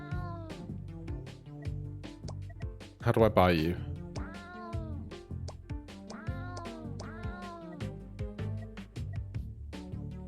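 Cartoonish cats meowing repeatedly in a cat-themed arcade roguelike video game, several close, loud meows in quick succession with a brief burst of game noise, mixed with someone talking.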